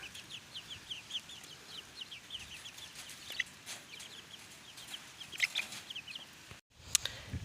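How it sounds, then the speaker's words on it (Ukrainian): Small chicks peep and cluck softly in a quiet, repeated pattern, with a few sharper chirps near the end against faint background noise. "Ну, ось такі курчатка."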